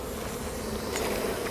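Honeybees in an opened hive, with frames of comb foundation near the brood during a swarming check, buzz in a steady, dense drone close by with no talk.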